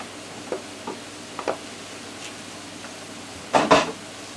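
Vegetables go back into a hot stir-fry pan of teriyaki pineapple chicken: a few light taps, then a short, loud clatter and burst of sizzle over a faint hiss, close up.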